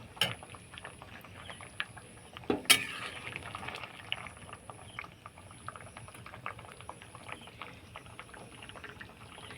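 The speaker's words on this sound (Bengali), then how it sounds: "এটাকে আর একটু সময় ফুটিয়ে তারপর নামিয়ে নেব।" A pot of sour snakehead fish curry boils steadily, with a soft continuous bubbling hiss and a couple of sharper knocks early on, heard close with no talk.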